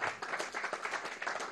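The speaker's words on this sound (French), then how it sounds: "Oui, on peut les applaudir." A committee gathering claps briefly for two co-rapporteurs, a short burst of quiet, scattered hand claps in a meeting room.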